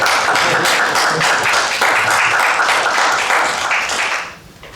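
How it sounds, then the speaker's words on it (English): Round of applause at a board meeting, a dense steady patter of many hands clapping together for several seconds before tapering off near the end. "I give you a round of applause."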